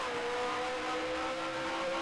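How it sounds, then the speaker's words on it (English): A vintage Grand Prix race car in the Grand Prix Legends video game, its engine droning steadily with the revs sagging slightly at the top of a hill, a continuous close mechanical hum without talk. "the car dipping down in the RPMs there on top of the hill"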